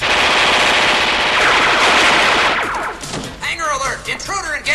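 Rapid automatic gunfire from an animated Robotech film, loud and continuous for about two and a half seconds, then giving way to sharp laser-like zaps and electronic sweeps.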